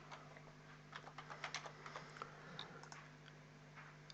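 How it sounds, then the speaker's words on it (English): Typing on a computer keyboard while entering data, a quick run of soft key clicks clustered in the middle, quiet and close, with no talking. "there's no drop down list, so let's just type it."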